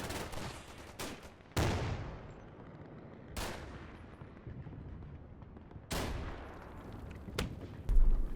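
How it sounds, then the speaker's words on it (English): Several 2-inch mortar rounds fired at a trench in the Combat Mission Final Blitzkrieg wargame, each a sharp booming report with a long decaying rumble, spaced a couple of seconds apart over continuous background battle noise. "I order 1st platoon's 2-inch mortar to start dropping rounds on the trench immediately."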